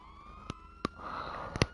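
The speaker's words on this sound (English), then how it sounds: "I hear a ton of police cars." Police car sirens in the video game GTA wail faintly in the distance, overlapping in a long wavering tone, while a few sharp knocks and thumps punctuate the scene.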